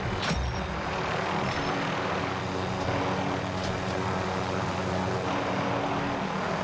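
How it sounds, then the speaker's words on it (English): An enemy attack helicopter in Call of Duty Warzone roars overhead, a loud sustained engine and rotor drone that holds steady throughout, heard alone without talk. "Enemy attack chopper incoming."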